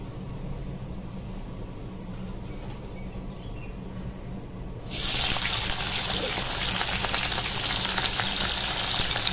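Chilies and onions drop into hot oil in a wok over a clay stove, and a loud, steady sizzle bursts out midway, replacing a quieter low hiss and continuing close and crackling to the end.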